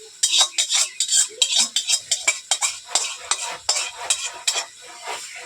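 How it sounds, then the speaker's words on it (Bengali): A metal spoon stirs fried potatoes into cooked meat in oil, giving rapid, close, rhythmic scrapes and clinks against the pot over a faint sizzle. "এই যে মাংস আর আলু একসঙ্গে তেল কষে নিচ্ছি"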